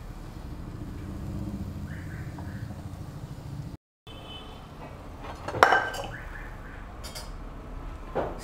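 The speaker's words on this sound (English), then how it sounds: "Now it is time to put in the cut cauliflower with the tender leaves." Cut cauliflower pieces with tender leaves are tipped into a pan over a raised flame, giving a short clatter and clink of pan and utensil around the middle, then a few quieter scrapes against a low steady background.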